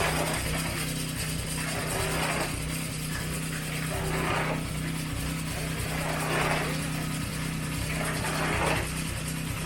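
A concrete mixer machine running at a road project in the Philippines, giving a loud, continuous mechanical drone with a rhythmic, ratcheting churn that pulses every couple of seconds, with no talking.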